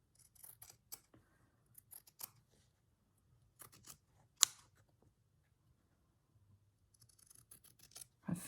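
Scissors snipping through a paper panel for a collage, a series of quiet, close, irregular cuts and clicks with pauses in between.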